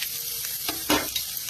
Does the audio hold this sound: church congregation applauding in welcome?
no